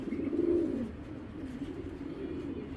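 Giribaz pigeons, a large breeding pair on a farm, coo in low rolling calls, loudest near the start and softer and continuous afterward, close by with no talk.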